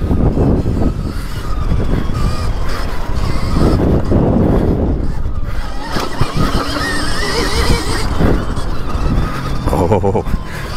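A Stark Varg electric motocross bike with a 55-horsepower motor accelerates hard on a dirt motocross track, its loud whining motor sustained throughout under heavy wind buffeting.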